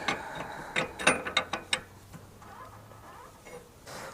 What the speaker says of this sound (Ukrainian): Беремо ключа на 36.